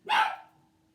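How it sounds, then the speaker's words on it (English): A single sharp dog bark, close and loud, fading quickly into a quiet room with a faint steady hum behind it. "That's my dog."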